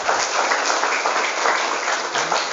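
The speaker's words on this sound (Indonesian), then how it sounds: "Oke, tepuk tangan untuk kita semuanya" Steady applause from a seminar audience of Islamic boarding school students at a motivational event, dense continuous clapping filling the room with no voices over it.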